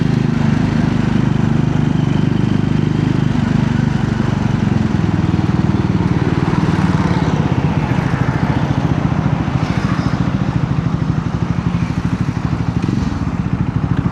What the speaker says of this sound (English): So that is for the exhaust note for you. It's quite bassy.